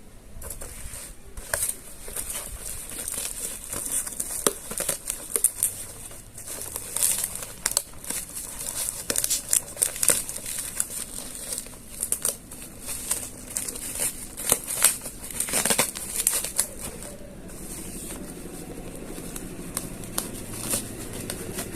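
Plastic packaging being peeled and pulled off a wireless Bluetooth game controller, close, continuous crinkling and crackling with rustles and small snaps throughout.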